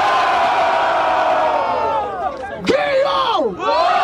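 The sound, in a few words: crowd cheering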